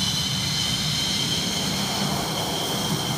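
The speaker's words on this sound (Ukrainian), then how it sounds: "Пілот тестує роботу двигуна та систем винищувача перед летом." A MiG-29 fighter jet's engine runs steadily during a pre-flight check at a military airfield, a loud, continuous roar with a high whine on top and a low rumble beneath, holding even throughout.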